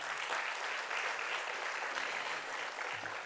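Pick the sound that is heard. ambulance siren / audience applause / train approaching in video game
audience applause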